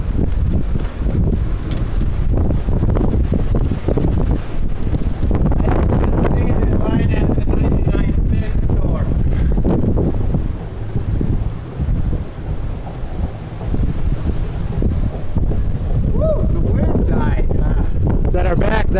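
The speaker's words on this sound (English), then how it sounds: "The wind's at our back." Strong wind at Venice Beach, Los Angeles, buffets the microphone during a bicycle ride, a loud, continuous rushing roar that surges and dips for the whole stretch.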